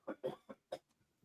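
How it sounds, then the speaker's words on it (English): A man coughs in a short burst of four close, dry coughs, fairly near, followed by faint breathy sounds. "I'm still coughing"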